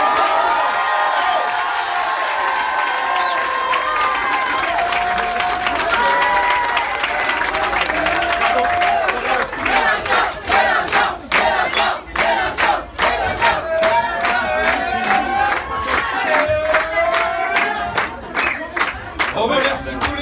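A rally crowd with fast-food workers on strike in Marseille roars and cheers, then breaks into loud rhythmic clapping in unison, with shouts over a dense, close wall of crowd noise.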